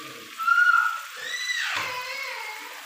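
Water splashed onto masala cooking in a pan gives a brief sizzling hiss that swells and then settles into a steady sputter, close and fairly loud.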